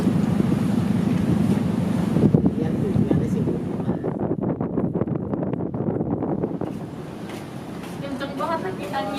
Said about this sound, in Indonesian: Kenceng banget lagi anginnya Pak di situ